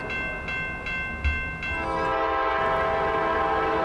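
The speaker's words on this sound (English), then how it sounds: "Westbound mixed freight MARSH is seen cruising through the siding track with KCS 4619 and a Jeep in tow" A westbound mixed freight train led by KCS locomotive 4619 rolls past close by on a siding with rhythmic clacking wheels, then a loud sustained horn blares over the steady rumble.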